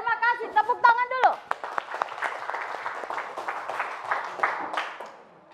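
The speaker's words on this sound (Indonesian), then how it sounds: "Terima kasih, tepuk tangan dulu." Classroom audience of students clapping together, a dense, steady patter of many hands that follows a teacher's brief spoken remark and continues at moderate level before tapering off.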